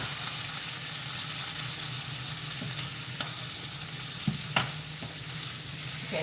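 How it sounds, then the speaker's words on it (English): Green onions and garlic sizzle steadily in butter in a pan while being stirred, a continuous close frying hiss with a few soft utensil scrapes and taps. "we're just going to stir this around"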